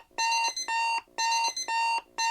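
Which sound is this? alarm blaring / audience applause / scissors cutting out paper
alarm blaring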